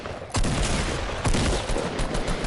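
Rapid gunfire from a video game gunfight, loud and close, with two sharp bursts and dense crackling shots running continuously across the whole stretch.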